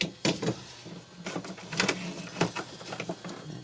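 A cordless ratchet tightens a fastener during a thermostat installation on a 2010 Kia Soul, several short whirring bursts with clicky bits, close and fairly quiet, no talking.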